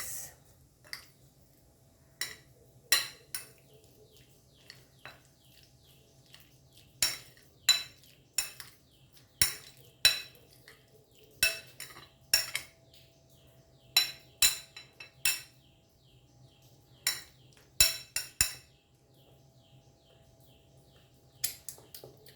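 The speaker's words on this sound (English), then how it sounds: "Let's give a mix" A spoon or fork stirs garlic butter into an avocado topping in a bowl, giving sparse, irregular metallic clinks and scrapes over a low background hum.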